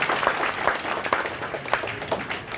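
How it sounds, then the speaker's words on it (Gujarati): Audience applause at a Gujarati lifestyle talk, a dense patter of clapping hands held steady across the whole stretch, moderately loud, with no speech over it. "એકવાર મેડમ માટે જોરદાર તાળીઓ થઈ જવી જોઈએ."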